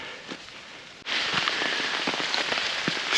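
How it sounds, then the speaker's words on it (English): Rain starts up again on a Via Francigena walking route, a soft patter suddenly swelling into a steady, dense hiss of drops falling close by. "Spoke a little bit too soon about the rain. Once again, it started"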